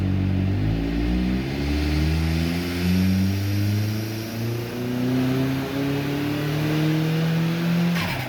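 Turbocharged Mazda MX5 NB engine revving on boost, loud repeated rising and falling revs close by, with a steady raspy exhaust note and no talk.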